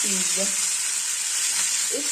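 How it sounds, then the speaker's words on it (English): Chicken pieces fry in a pan for a Kenyan chicken stew, giving a loud, continuous close sizzle and crackle, with a voice speaking briefly underneath. "You can see that part is sizzling up"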